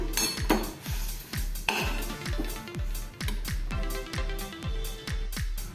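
A spoon clinks and scrapes against a pan in a rapid, regular rhythm, mixing a besan and coconut modak mixture with milk; the clatter is close and fairly loud.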